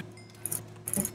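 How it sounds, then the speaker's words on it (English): Two short bursts of rapid, bright clicking, each lasting a fraction of a second, separated by a quiet pause over faint background hum. "Did you hear that, all that intense clicking?"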